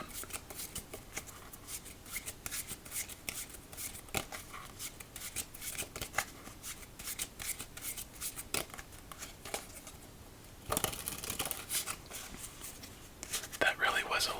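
Soft riffling and shuffling of playing cards, repeated in quick bursts, with quiet speech running throughout.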